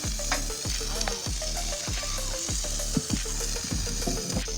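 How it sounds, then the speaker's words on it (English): Burgers cook outdoors on a barbecue at Lake Del Valle, giving a continuous loud sizzle of frying with regular low thuds and clatter running underneath. "we're cooking up some burgers here at Valle"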